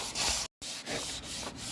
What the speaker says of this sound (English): sanding the top of the hood and preparing it for primer.